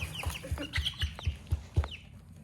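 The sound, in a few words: chickens clucking in a coop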